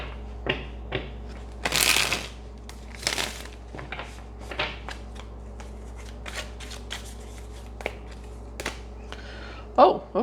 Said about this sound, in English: We just get one shuffle.